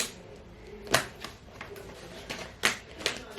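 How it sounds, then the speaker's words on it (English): An elastic band is stretched around a stack of paper envelopes, making a series of quiet, close papery taps and snaps at irregular intervals, with a few sharper clicks standing out. "What I'm gonna do is I'm gonna put an elastic around them"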